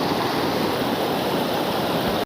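The flood-swollen Devalgarh river in the mountains pours past in a continuous, close, heavy rush of turbulent water, steady throughout before cutting off abruptly at the end.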